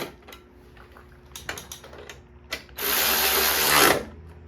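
A handheld impact driver runs nuts onto a lawn mower in a repair shop, with a few short clicks and taps first, then one loud sustained burst of rattling hammering just over a second long.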